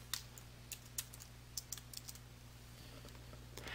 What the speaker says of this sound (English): type an item receipt code or other distinguishing information into the memo